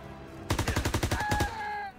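German World War II weapons fire in a Call of Duty WW2 game battle: a rapid burst of about ten loud, evenly spaced gunshots, close and alone, followed by a short ringing tail.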